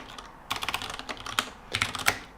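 Quick bursts of keystrokes clatter on a computer keyboard, close and moderately loud, with brief pauses between flurries of typing.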